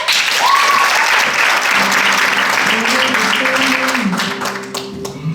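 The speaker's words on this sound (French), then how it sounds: "Merci de l'applaudir." A show audience breaks into loud, dense applause. A brief whistle rises near the start, and soft music tones come in beneath the clapping partway through, while the applause continues to the end.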